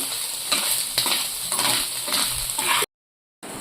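Salted egg bhurji is stirred in a frying pan with a spatula, producing rhythmic scraping strokes over a soft sizzle, close and alone, then cutting briefly to silence near the end.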